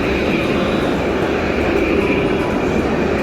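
A tram or train rumbles past at a station in Nice at night, a loud steady rolling roar with a faint high whine, lasting the whole moment without talk.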